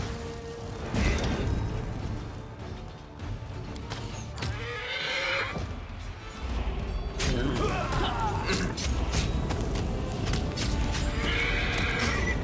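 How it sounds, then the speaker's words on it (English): A horse from Pathfinder: Wrath of the Righteous gives a clear whinny with clip-clopping hooves, amid a busy game soundscape of mechanical clanks and whooshes and steady background noise. "Ooh, the horsey's lining up for us."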